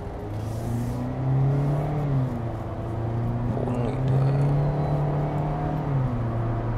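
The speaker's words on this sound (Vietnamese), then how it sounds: "bây giờ xin phép mọi người thì sẽ tăng tốc nhanh lên một chút xíu nữa để thử khả năng tăng tốc" VinFast Fadil car accelerating from inside the cabin, a steady engine drone that rises in pitch in waves as revs climb and drop between gears, continuous and fairly loud with no talk.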